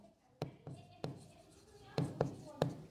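A pen writes on paper in short strokes and taps, with about eight distinct knocks spread over a few seconds, close and moderately loud under a soft speaking voice.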